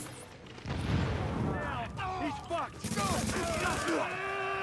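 Rapid gunfire and explosions in The Division 2 video game, loud overlapping shots and booms with whistling effects, while players talk over the action.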